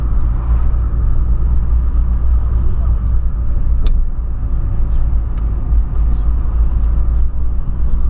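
A Volkswagen Polo driving along a dirt road, its engine and tires producing a loud, steady low rumble with occasional knocks from the rough surface, continuous throughout with no talk.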